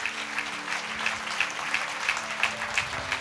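A congregation at a Sunday church service clapping hands in thanks, a steady rhythmic beat of many hands at a moderate pace, fairly loud and even.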